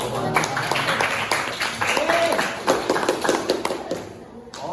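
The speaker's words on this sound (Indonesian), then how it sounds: "Tepuk tangan dulu." Students in a mathematics class clap together, a run of close, sharp claps mixed with voices that lasts a few seconds.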